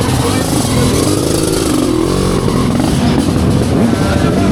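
A vintage motorcycle engine revs loudly and close by at a Touquet Vintage motor event, giving a continuous rough roar with rattling mechanical texture and no break.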